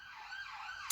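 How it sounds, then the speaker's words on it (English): An ambulance siren wails outside as it passes, a rising and falling tone heard alone for about a second before a sharp brief click at the end. "It's probably an ambulance."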